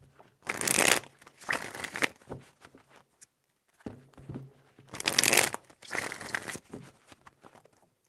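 Tarot cards are shuffled in four separate bursts, crisp riffling rustles with short pauses between them, close and fairly quiet, with no voices.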